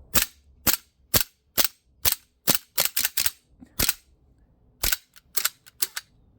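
A Cybergun Desert Eagle 50AE CO2 air pistol shooting 4.5mm BBs fires a rapid string of sharp, close cracks, about fifteen shots in uneven bursts, alone with no voices, as the gas nears empty.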